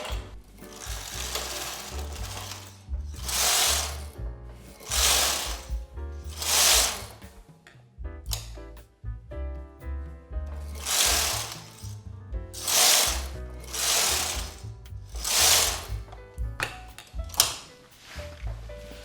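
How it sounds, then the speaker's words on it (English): A knitting machine carriage is pushed back and forth across the needle bed knitting rows. Each pass makes a long raspy swish, and about eight of these come in a steady rhythm with short pauses between them, close and moderately loud, with no speech. "We'll make sure to put my carriage in holding position, and I will knit 4 rows"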